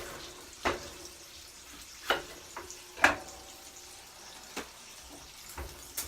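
Bacon frying in a pan for cowboy eggs gives a steady, soft sizzle, broken every second or so by sharp clicks and pops, with nobody talking.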